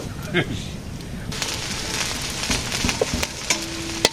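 Eggplant fries in a pan with a busy, crackling sizzle and scattered sharp pops and clinks of a utensil. Faint voices talk underneath the frying.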